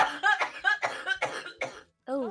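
A woman coughs repeatedly while laughing after drinking something with milk in it, a rapid run of harsh, voiced bursts close to the microphone, ending with a short laugh-like breath.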